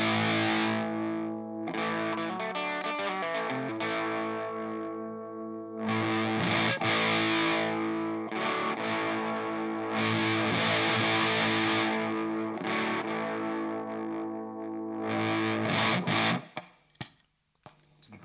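Electric guitar through a Sola Sound MKII Tone Bender fuzz pedal, thick sustained fuzzy chords and notes in several held phrases with short gaps, loud and close, ending in a few scratchy muted strums.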